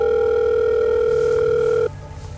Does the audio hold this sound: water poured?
no